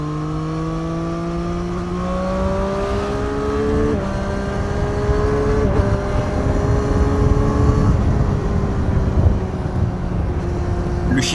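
A 2023 Triumph Street Triple RS three-cylinder motorcycle being ridden, its engine note rising and dropping through steady gear changes with a quickshifter, loud and close throughout with wind noise.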